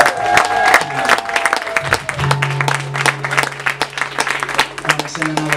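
An audience claps at a live music show at Cafe Envision, with sharp hand claps scattered over a sustained low hum and some voices, rising and falling without a steady rhythm.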